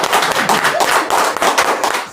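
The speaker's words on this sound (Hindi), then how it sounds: "जोरदार ताली मैम के लिए" An audience at an indoor training meeting breaks into loud, dense applause. The clapping is continuous and close, with no voices over it.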